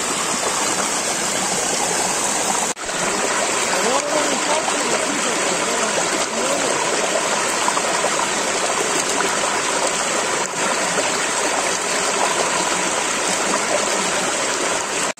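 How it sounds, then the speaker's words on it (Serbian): A forest waterfall roars continuously and close, a dense steady rush of falling water with no breaks and no voices over it. "došli smo ispod drugog vodopada"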